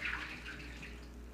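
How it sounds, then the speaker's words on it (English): Water soaked from dates is poured off into a kitchen sink, a faint, brief splash and trickle that settles into a soft steady wash, with no speech. "I'm going to walk over here real fast to drain off the water."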